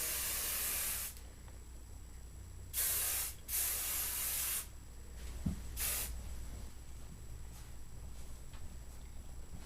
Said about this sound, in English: I'm just going to finish off with some hairspray.